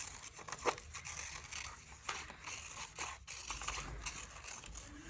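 Small scissors snipping paper for a children's Santa craft project, a series of quiet close crisp cuts with paper rustling between them.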